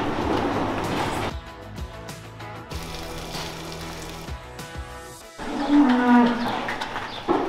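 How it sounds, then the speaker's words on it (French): Cows on a small Breton farm with sixteen animals that makes artisanal cheese give several long, deep moos one after another, loud and near, with no talking. "Comme vous pouvez le voir, il y a 16 vaches,"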